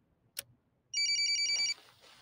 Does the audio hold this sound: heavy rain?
no